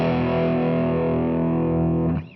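Electric guitar played through a Line 6 Flextone II amp on its Brit Classic model, a Vox or Marshall style tone with some drive: one sustained, distorted chord rings loud and steady, then cuts off abruptly at the end, with no talking.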